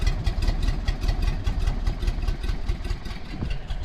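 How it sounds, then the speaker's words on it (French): A low, steady idle from a Porsche 356 SC coupe engine rumbles evenly throughout, a smooth continuous drone with a slight rhythmic pulse and no talking. "Le ralenti est très bas et la voiture franchement n'a pas de difficulté à tenir le ralenti"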